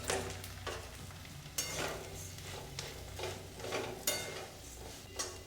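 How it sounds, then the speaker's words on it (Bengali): Flattened rice (chire) frying in oil on medium heat, a steady soft sizzle with repeated scraping and stirring clicks from a utensil against the pan. "মিডিয়াম রেখে আমি চিড়েটা ভেজে নেব।"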